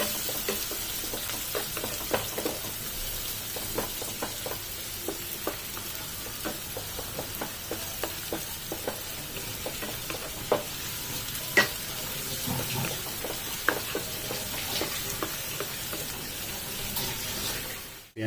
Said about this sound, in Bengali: পেঁয়াজটা দিয়ে ভেজে নেবো ভালো করে।